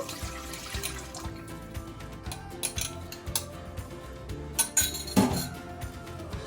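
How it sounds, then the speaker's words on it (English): Olive oil and honey being poured into a mixing bowl for gluten-free garlic cheese breadsticks, with soft liquid sounds and scattered light clinks of glass and utensils nearby, quiet and intermittent, with no talking. "I'm going to move my wet ingredients into my mixing bowl now."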